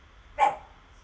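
A dog named Keats gives a single short sharp bark, close and loud, in an otherwise quiet room.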